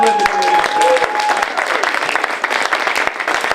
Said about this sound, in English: A round of applause to FDR's